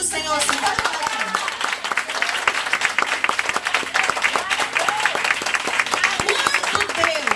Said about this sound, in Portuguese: Pode aplaudir o Senhor assim, pode aplaudir.